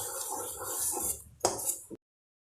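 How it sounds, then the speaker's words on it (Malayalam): A spoon scrapes and clinks against a bowl while wheat unniyappam batter is stirred together with jaggery syrup, a short run of busy mixing ending in two sharper knocks before cutting off. "ഇനി നമുക്കിതിലേക്ക് കുറച്ചും കൂടി ശർക്കരപ്പാനി ഒഴിച്ചിട്ട് മിക്സ് ചെയ്തെടുക്കാം."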